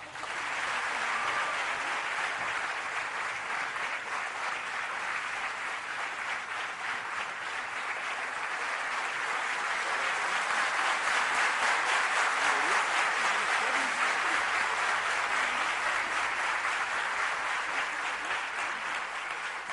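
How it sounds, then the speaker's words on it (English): A crowd at a medical college function claps continuously for an extended stretch, thick steady applause swelling slightly midway and staying strong to the end. "Another round of applause, please."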